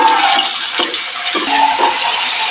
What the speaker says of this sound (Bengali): এই সাইডটা আগে ভালো করে ভেজে নেব মিডিয়াম হিটে।